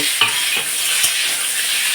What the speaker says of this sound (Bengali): একসাথে দিয়ে দিলাম সব সবজিগুলো একসাথে দিয়ে এবার আমি নাড়ব